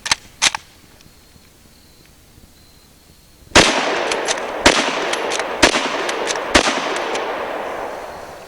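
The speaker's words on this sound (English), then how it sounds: "Let's shoot it one time, see what it looks like." Sharp, loud rifle reports from a surplus bolt-action rifle made around 1956, fired outdoors: two quick cracks, a pause, then a heavier blast followed by several more shots spaced about a second apart, each with a short echoing tail.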